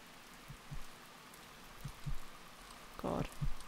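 Acid rain in The Music Machine falls as a faint, steady hiss, with soft low thumps and a brief louder noise burst near the end.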